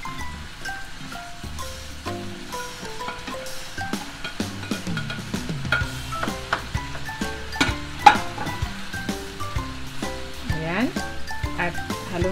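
Cabbage is tossed into a sizzling pan for stir-fry noodles, with a constant frying hiss, clattering utensil stirs and a speaking voice over it.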